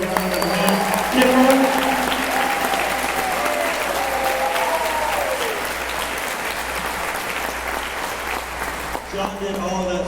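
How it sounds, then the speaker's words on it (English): Steady applause from a school band and choir concert audience fills the hall, sustained and fairly loud for most of the stretch, with a voice speaking over it near the start and again at the end. "give our big sound engineer, Mr. John Kay, a big round of applause"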